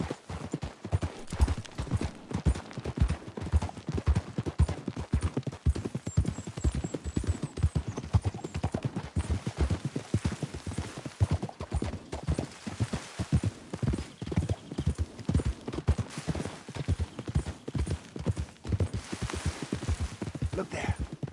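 Horse hooves in the Red Dead Redemption 2 video game, a rapid, steady clip-clop gallop that is close and continuous for the whole stretch, with an occasional faint whinny.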